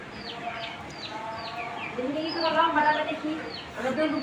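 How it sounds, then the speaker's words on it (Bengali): Farmyard chickens cluck and call repeatedly at close range, with a rooster-like voice among them and bird chirps overhead, while people talk over the flock throughout. "মুরগি আছে এখানে"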